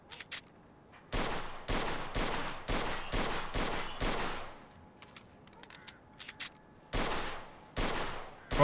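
Gunshots from the Mafia 2 video game, fired in rapid bursts of sharp close reports with short pauses between volleys, a second burst near the end, and no talking.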